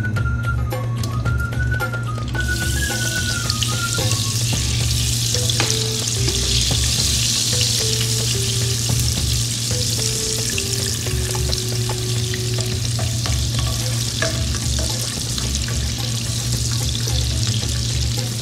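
Butter and oil sizzle loudly and continuously in a cooking pan, a dense close frying hiss with faint stirring, while soft melodic background music plays underneath.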